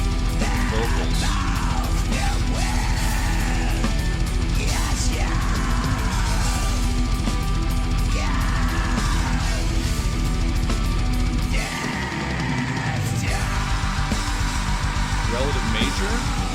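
Growled and screamed extreme metal vocals ride over dense, loud distorted guitars and drums, with a brief drop in the low end partway through.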